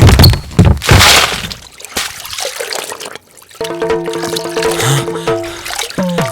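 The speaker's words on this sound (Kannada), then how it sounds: "ಭಟ್ರು ದಿಣ್ಣೆಯಿಂದ ಜಾರಿ ನೀರಿನ ಝೊಯ್ ಒಳಗಡೆ ಬೀಳ್ತಾ ಇದ್ದಾರೆ" Radio drama effect of a man slipping off a mound and plunging into water: heavy thumps and a splashing rush up front, then gurgling trickle as other sound effects come in, loud and close.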